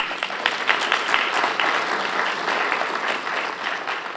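An audience at a university faculty and staff seminar claps steadily, a dense, even round of applause from a room full of people, close and sustained throughout.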